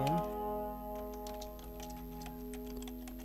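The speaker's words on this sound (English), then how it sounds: "I am going to type my university name." Computer keyboard being typed on while entering text into a Word document cover page, a steady run of light close key clicks with a faint hum behind them and no talk.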